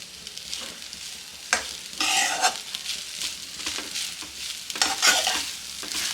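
Tomato rice stir-fried in a pan over a high flame: a steady sizzle broken by repeated scraping and tossing strokes from a spatula, close and fairly loud, with no talking.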